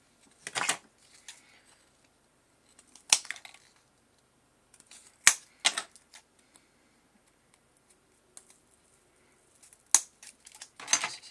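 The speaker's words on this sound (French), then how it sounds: "C'était les ciseaux les mieux adaptés." Scissors cut through foam board card in a quiet indoor setting, with a few short snipping and crunching bursts spread out between stretches of silence.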